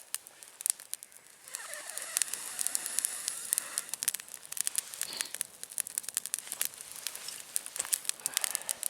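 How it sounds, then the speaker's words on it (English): A small campfire of fine twigs burning down to embers outdoors, with close, sharp pops and crackles scattered irregularly over a soft, continuous hiss of flame. "Doesn't matter if the flame goes down, because there's a lot of embers in there anyway"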